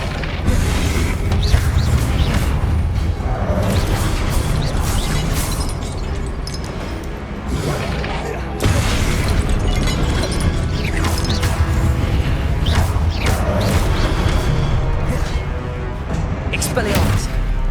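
Confringo blasting spells going off during combat in Hogwarts Legacy, a dense run of loud booming explosions and crashes over a steady rumble, close and continuous with repeated bursts, while a voice calls out spell names throughout.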